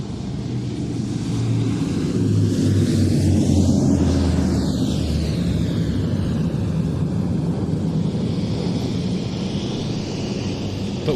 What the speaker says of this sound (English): The Turbo Firecat, flown there by Laurent Michelet. An absolutely superb display.